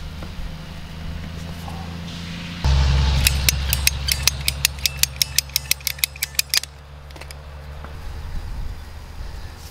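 Drip irrigation tee fitting on a raised-bed line being tightened, a burst of rapid ratcheting clicks in a quick regular series over a few seconds, close and loud against a low background hum.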